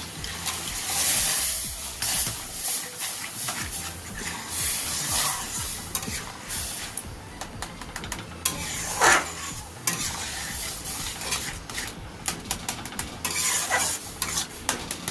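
Semolina stirred in a pan after water is poured in, with continuous close scraping and wet bubbling sizzle, plus occasional utensil clinks against the pot.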